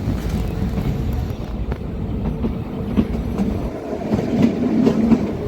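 The Kalka to Shimla toy train rolls along its rails with a steady low rumble and faint rhythmic clatter, heard from on board and continuing throughout without any voices.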